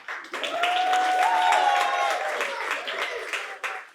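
Wedding guests in Port St. Joe, Florida clap during a toast, a steady burst of applause that fills the room for several seconds before tapering off, with a voice heard briefly at the end.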